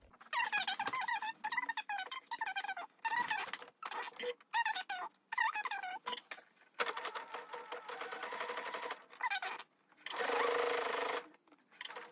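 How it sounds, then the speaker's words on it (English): A sewing machine zigzag stitches at a quarter-inch seam on a thong in a lingerie sewalong, running in rapid stop-start bursts of close, busy stitching broken by short silent pauses. "is sew from this point down here at 1/4 inch, a zigzag"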